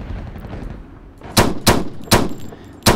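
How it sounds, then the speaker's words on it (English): Four sharp pistol shots ring out in the video game War Inc, spaced irregularly over a faint background hum, each crisp and loud with a brief decay. "It's weird there's no recoil to my pistol when I shoot."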